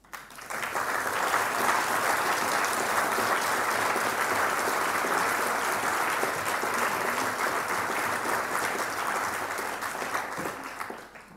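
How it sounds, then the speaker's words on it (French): Warm, sustained applause from a large audience at a university's opening ceremony for the academic year, a thick continuous roar of clapping that swells in quickly, holds steady and tapers off near the end. "Vos applaudissements y contribueront."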